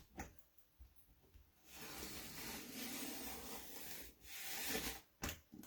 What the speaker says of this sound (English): And then I'm going to press this in and give it a spin.